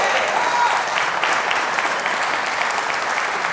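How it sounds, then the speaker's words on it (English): An audience at a community awards ceremony claps warmly for a nominee, steady dense applause throughout with no talking. "So another round of applause for Elaine Hutchins"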